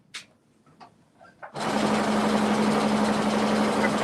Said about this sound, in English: I can do my stitching now.